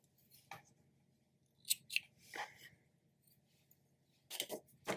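Scissors trimming crochet yarn while a platypus pencil topper is being made, giving a few sharp, quiet snips spread apart over near silence.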